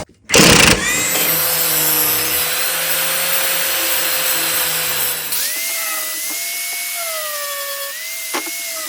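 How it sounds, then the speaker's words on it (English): A power impact gun works on a John Deere D105 hydrostatic riding mower, giving a loud sustained whirring whine with a sharp start, then a shift to a higher wavering tone before trailing off. "I use an impact gun"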